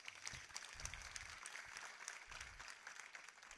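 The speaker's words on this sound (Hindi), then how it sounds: "आपकी तालियों में कुछ अलग ही अनुभव हो रहा मुझे भी" Steady applause from a seated audience at a religious discourse, a continuous wash of many hands clapping at moderate distance, even and unbroken, with no speech over it.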